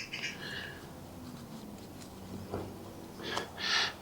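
Seagulls squawk in a few harsh bursts at an early-morning hour, the calls moderately close and loudest near the end, over a low background rumble.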